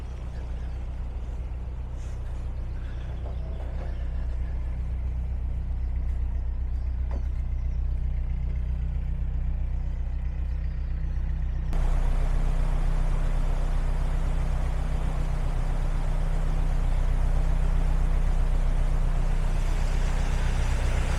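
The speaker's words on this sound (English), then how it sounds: "Over there you can still hear the roar of traffic noise" A continuous low roar of road traffic from the A38 rumbles on without pause beside the Trent and Mersey Canal, vehicles blending into one heavy drone that grows slightly fuller partway through.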